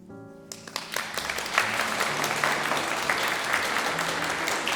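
Warm applause from a congregation fills a church during a Sunday service in Dortmund, starting abruptly after a held organ-like tone and continuing as steady clapping throughout.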